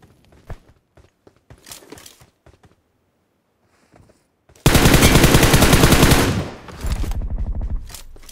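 Rapid automatic gunfire from a video game in ancient-secret Pharaoh arise mode: after sparse clicks and faint taps, a loud sustained burst of machine-gun fire runs about two seconds, briefly dips, then resumes.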